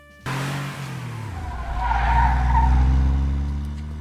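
A car peels away with screeching, skidding tires, a sharp onset followed by a sustained loud squeal and engine roar over about four seconds, with no voices.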